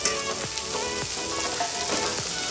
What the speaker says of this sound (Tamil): தக்காளி ஒரு 2-3 நிமிஷம் வதங்கினா போதும்.